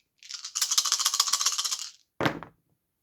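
Dice rattle briskly in a cup for over a second during a World War II strategy board game, then spill onto the table in a short, sharp clatter. The sound is close and clear, with no talking.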